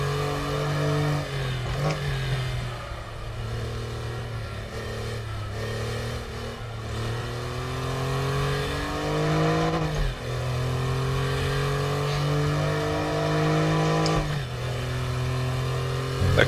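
A race car engine in the RaceRoom sim racing game revs hard and steadily with a strong, buzzing note, rising in pitch through the gears with brief dips where it shifts, loud and continuous throughout.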